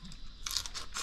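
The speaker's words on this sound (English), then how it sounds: "You just chew the whole shell up?" Crunchy, brittle bites into cooked crawfish shells, a close sharp crackling in a few quick bursts with no talk over it.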